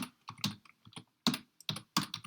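Command being typed on a computer keyboard while managing a server, heard as quick bursts of close, clicky keystrokes with short pauses between groups of keys.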